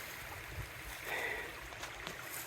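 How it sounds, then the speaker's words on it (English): Waterfalls cascade down a mountainside along the Appalachian Trail, giving a steady, distant rush of falling water that fills the whole moment without a break. "Many waterfalls all down the mountain."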